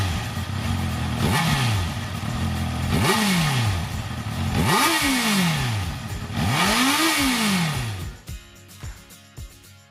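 A 2017 Honda CB650F with a small four-cylinder engine revving while being ridden, rising through the gears in four loud climbing pulls, each dropping sharply at the shift, before easing off near the end.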